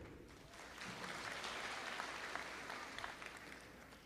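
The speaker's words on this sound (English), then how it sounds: "You can go ahead and clap if they're there" A graduation crowd for a high school class of 2024 breaks into steady, dense applause that fills the room, swelling slightly and then holding level without any voices.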